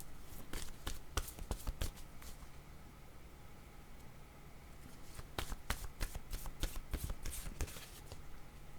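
Tarot cards are shuffled in quick, riffling bursts, close and fairly quiet, with a pause in the middle before another run of shuffling.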